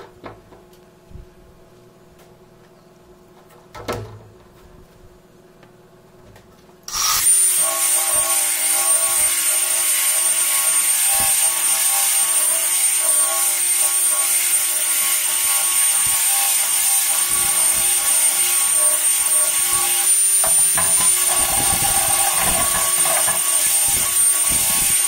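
Electric high-performance sander working a solid rustic wooden tabletop with 120-to-220 grit paper switches on after a few quiet seconds, then runs as a loud, steady high-pitched whine with constant grinding texture, some changes in pressure near the end.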